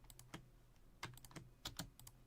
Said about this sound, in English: I hear some clicking going on.